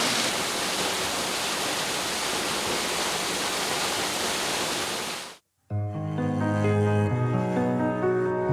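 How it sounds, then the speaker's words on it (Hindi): A waterfall in a Himalayan forest near Kalap village roars as a dense, loud, steady rush of water for about five seconds, then cuts abruptly to music. "मैं एकदम वाटरफॉल के पीछे आ गया हूँ और यहाँ से वाटरफॉल का नज़ारा बहुत सुंदर है"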